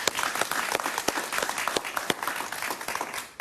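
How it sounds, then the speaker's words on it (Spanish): Studio audience applause on a Mega TV interview show, a dense steady burst of clapping with sharp individual claps standing out, fairly close and continuous throughout. "Un aplauso para María Corina."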